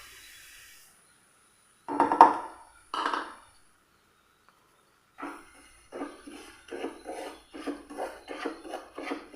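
Semolina stirred and roasted in melted ghee in a pan, a short scrape early on and then a run of rhythmic scraping strokes of a spoon against the pan, close and moderately loud.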